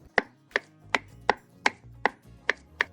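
Raw sour mango is cut with a knife on a board, eight crisp, evenly spaced chops about every half second, close and distinct, with no talking.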